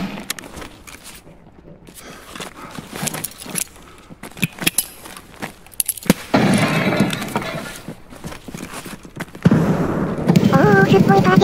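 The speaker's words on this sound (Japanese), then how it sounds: "いろんな銃声がするな" Many guns fire in a chaotic firefight in the video game Escape from Tarkov, with sharp cracks and bursts at varying distances that build to denser, louder volleys toward the end.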